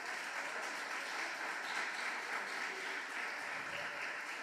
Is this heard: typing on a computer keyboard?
no